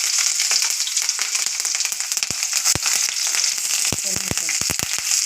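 Mustard seeds, onion and green chilli hit a hot pan and fry loudly, with a dense crackling sizzle and sharp popping bursts near the end; no voices.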